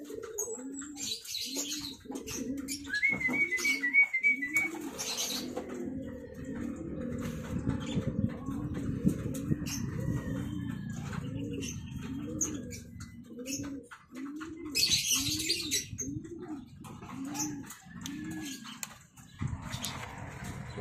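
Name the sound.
pigeons cooing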